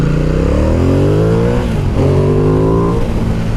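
A 2016 Ducati XDiavel S motorcycle accelerates hard, its loud close engine climbing in pitch, dipping briefly at a gear change, then rising again under strong wind noise.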